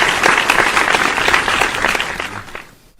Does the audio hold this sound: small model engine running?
no